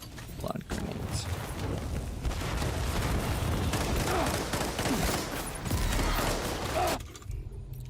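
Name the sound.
blood grenades exploding in Death Stranding 2 video game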